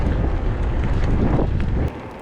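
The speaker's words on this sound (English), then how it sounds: "Oh, it's so windy." Strong wind at a ski kicker jump buffets the microphone with a loud, low rumbling roar that drops off slightly near the end.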